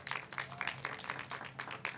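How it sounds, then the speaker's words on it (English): Applause from an audience at a press conference, a steady, fairly close patter of many hands clapping throughout with no talk over it. "we can give a round of applause."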